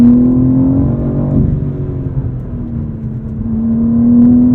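A BMW M4 CSL engine drones close by, its pitch dipping and then climbing again as the exhaust revs with a throaty hum.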